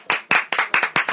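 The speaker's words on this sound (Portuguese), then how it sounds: "Aplausos." Five or six distinct, loud, close hand claps in a quick, slightly uneven rhythm, each a sharp burst with no other sound between them.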